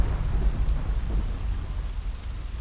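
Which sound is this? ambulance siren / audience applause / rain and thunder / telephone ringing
rain and thunder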